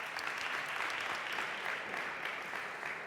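Steady, fairly faint applause from an audience at a youth arts gala, an even wash of many hands clapping throughout with no break.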